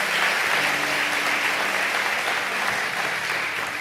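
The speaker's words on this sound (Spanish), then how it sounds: "Aplauda fuerte al Señor." A church congregation claps loudly for the Lord during a Spanish-language sermon, with dense, steady applause filling the whole moment at close range.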